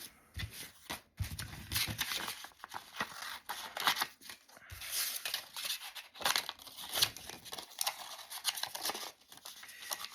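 Scissors snip and crinkle through tracing paper in quick irregular cuts, with rustling and crumpling of the sheet between strokes, close and fairly soft.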